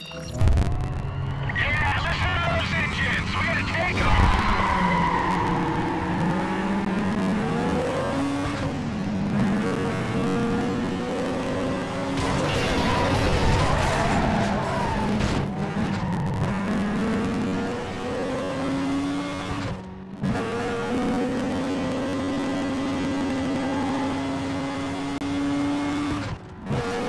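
Race car engines in Need for Speed Carbon drone and rev continuously, with pitch rising and falling through gear changes and occasional tire skids, while game voices speak over them.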